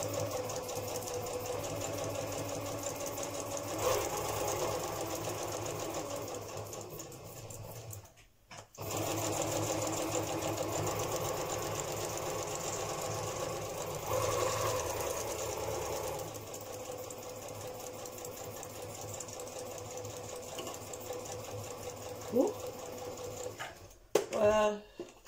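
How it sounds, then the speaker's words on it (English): A sewing machine stitching around a paper collage on a window envelope, running in steady close whirring stretches with a short pause, then stopping near the end. "I will sew around"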